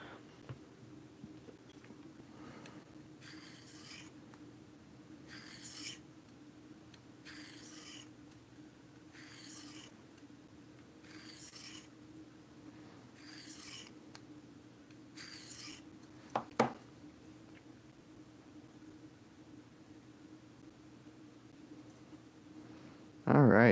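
Knife edge stroked across a sharpening stone while a friend's knife is repaired, a quiet rhythmic series of about seven rasping strokes over a steady low background hum, followed by a couple of sharp clicks near the end.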